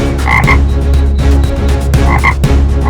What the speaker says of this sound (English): Standing near a ditch, the frogs began croaking.